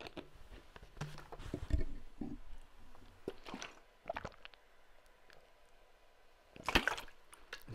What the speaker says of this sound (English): Just had a drink of water.